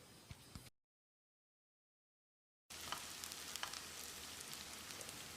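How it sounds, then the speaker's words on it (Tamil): Onions sauté in a pan for a chicken fry, a soft steady sizzle that briefly drops out before returning with light crackles, heard alone without talk. "வெங்காயத்தை செவந்து வர்ற அளவுக்கு வதக்கணும்."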